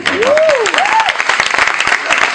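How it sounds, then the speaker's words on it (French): Audience applause at a speech ceremony, a dense close burst of clapping, with a brief voice-like rising tone over the start. "Merci de l'applaudir encore"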